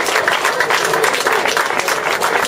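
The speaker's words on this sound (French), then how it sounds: "Applaudissements s'il vous plaît pour ce podium de choc." A crowd applauds the podium finishers at the Foulées de Balaruc les Bains running race outdoors, with brisk, continuous clapping from many hands and a faint murmur of the crowd beneath it.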